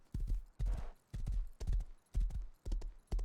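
Horse hooves clip-clopping in the survival video game Rust, a steady series of heavy, close thuds in an even rhythm with no talking.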